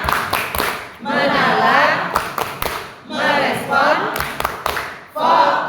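A group claps in a rhythmic chant pattern, sharp bursts of clapping alternating with a voice speaking and chanting at a teacher training session.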